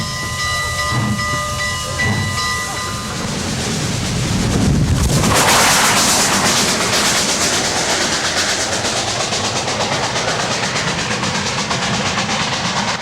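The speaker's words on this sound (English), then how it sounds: "listen to a steam locomotive." A steam locomotive running on tracks: a steam whistle sounds first, then a loud, close burst of hissing steam swells into a steady, rhythmic chuffing and rumbling roar that carries on to the end.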